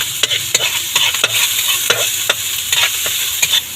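Garlic frying in a hot pan while a utensil stirs it, a constant close sizzle broken by repeated scraping strokes at a quick, uneven rhythm.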